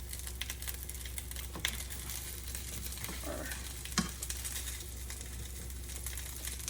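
Leftover cooked catfish coated in honey and sesame seeds sizzles in a frying pan, a steady soft crackle broken by a few brief scrapes and clunks as pieces are turned.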